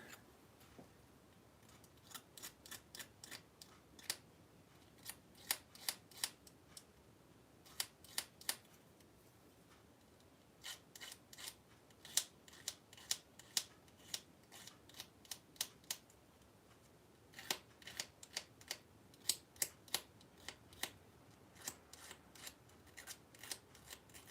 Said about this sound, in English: Just deburring the aluminum, the razor blade. Kind of just going across like that.